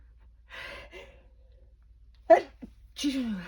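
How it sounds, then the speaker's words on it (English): A sharp hay fever sneeze bursts out midway, with breathy sounds and a bit of voice around it. "sorry, I'm going to sneeze again"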